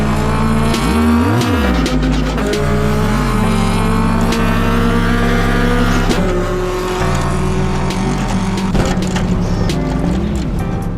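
Modded race car in Assetto Corsa with a loud, high-pitched engine revving hard through repeated gear changes, pitch climbing and dropping over and over amid a continuous roar, with no talk.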